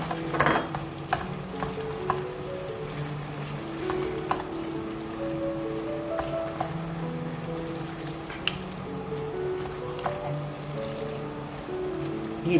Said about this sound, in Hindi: ये देखिए इसको अच्छी तरह मसाले को मिक्स कर लेंगे।